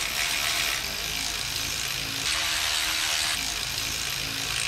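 A ratchet wrench tightens spark plugs on a 1981 Ford Courier, giving a steady close-up run of fine rapid clicking with no voices.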